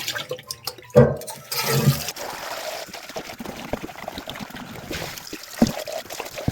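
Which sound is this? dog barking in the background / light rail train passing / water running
water running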